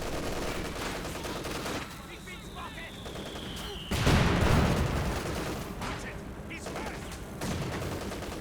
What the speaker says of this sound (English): Three machine guns for VonAsten as well.